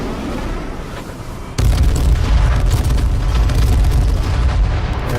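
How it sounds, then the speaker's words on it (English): An airstrike in the H1Z1 battle royale game erupts into a sudden loud boom, followed by sustained rumbling blasts and debris crackle that keep going for several seconds. "I don't know how I survived that airstrike"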